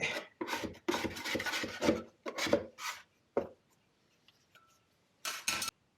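Pizza dough and flour scraped around in a bowl: rasping, rubbing strokes in bursts, close and fairly quiet, with short pauses between them.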